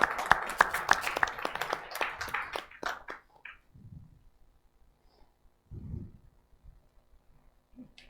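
An audience at a book fair talk claps in a brief burst of dense applause that fades out within a few seconds, followed by quiet room sound with a few soft thumps.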